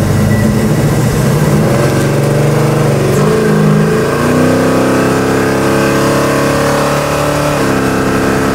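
A powerful V8 engine in a 1969 Chevrolet Chevelle SS-style car roars and accelerates loudly, its pitch climbing steadily through gear changes, up close and sustained for the whole stretch.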